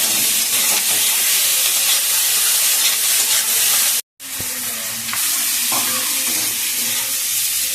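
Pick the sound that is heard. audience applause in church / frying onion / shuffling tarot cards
frying onion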